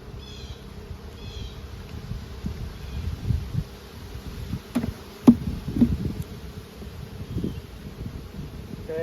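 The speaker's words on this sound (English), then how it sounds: "I see all these little bees, lots of nurse bees in here." Honey bees buzz softly around a brood frame full of nurse bees, a low continuous droning hum with occasional louder passes and light handling rustles, heard up close with no talking.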